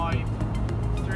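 A 2019 Suzuki Jimny cruises on the road at about 65 and 3,500 RPM, with a steady engine and road drone running under a person talking.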